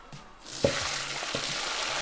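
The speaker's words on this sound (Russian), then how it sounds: "Спагетти сварились, сливаем водичку" Boiled spaghetti water from a pot pours steadily into a sink, a continuous rushing hiss with a brief clank near the start.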